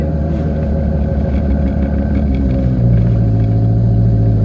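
A car labours up a snowy mountain road in a high gear, slipping and sliding to the right, its engine giving a loud, steady low rumble that deepens and swells toward the end.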